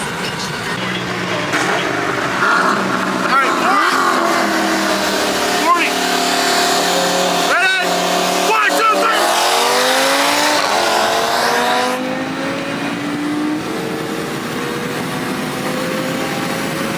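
A turbocharged Trans Am and a turbo truck street racing, engines roaring loud and close with rising, shifting revs and repeated gear changes, then a drop in pitch as they back off; talk is heard over the noise.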